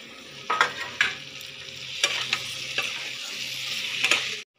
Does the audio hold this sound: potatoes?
yes